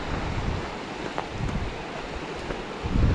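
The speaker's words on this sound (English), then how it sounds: "How windy it is" Wind buffets the microphone at a riverside fishing spot, a steady broadband rush with gusts that swell louder toward the end, heard alone without speech.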